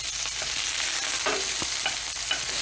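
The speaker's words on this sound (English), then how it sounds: "Put the onions and the garlic in there, in the pan." Onions and garlic sauté in olive oil in a pan, a steady close sizzle with occasional soft scrapes and taps of stirring, and no voices.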